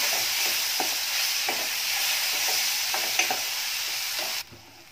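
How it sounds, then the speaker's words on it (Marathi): Chopped tomato and onion sautéing in a pan for white onion bharit, a steady close sizzle broken by regular stirring scrapes, cutting off abruptly near the end. "टोमॅटो सुद्धा मऊसर होईपर्यंत परतून घ्यायचा।"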